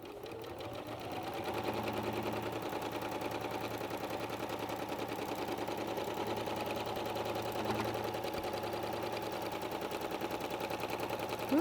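A sewing machine stitches steadily around an appliqué, its needle hammering in a fast, even mechanical rhythm that holds close and constant for about ten seconds.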